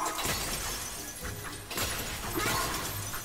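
Glass objects shatter in the MediEvil remake, several quick bright crashes and tinkling breaks scattered over a dense game soundscape, close and fairly loud.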